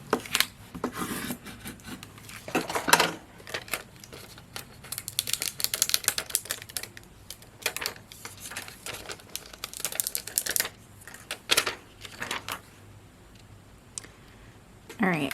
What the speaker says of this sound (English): use my scraper tool.